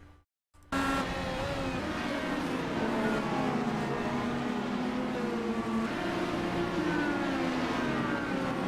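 IndyCar race cars on the Interlagos road course howl continuously after a brief near-silent gap at the start, loud engine pitches rising and falling as the cars slide and race, with no talking.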